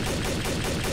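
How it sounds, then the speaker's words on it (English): Rapid gunfire in Garry's Mod, a dense continuous burst of loud shots filling the whole moment with no pauses and no talking. "Oh, I shot the wrong one."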